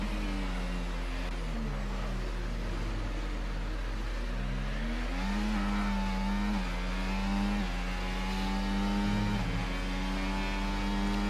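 A Formula 1 car engine in the racing game F1 24 at Portimao on an out lap, a loud continuous high-revving whine that climbs and drops through gear shifts, with a constant hum underneath and no talk.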